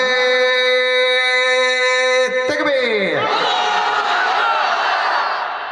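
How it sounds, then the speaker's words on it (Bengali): Single men in a crowd at a religious gathering in Sylhet shout the takbir chant: one long, sustained leading call, then a loud, massed roar of many voices answering together, close and filling the space. "এবার জাস্ট সিঙ্গেল ভাইরা তাকবীর দিবেন"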